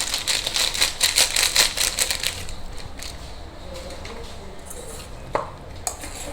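Coconut milk powder being mixed in a metal vessel, a close, rapid run of scraping and clinking strokes that then thins into a few sparse knocks and a sharp clink.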